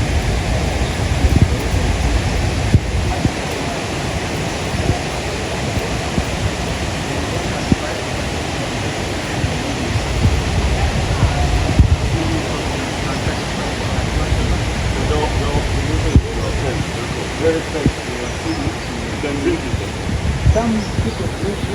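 Sezibwa waterfall in Uganda, a steady broadband rush of falling water that stays loud and constant throughout, with people talking over it.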